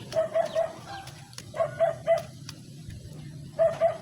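A dog barks in quick bursts of two or three, pausing between runs, fairly close and with no one talking.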